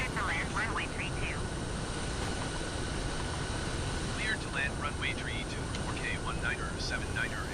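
An F-22 Raptor jet flies in Microsoft Flight Simulator on Xbox Series X, its continuous engine roar running beneath people chatting over it throughout.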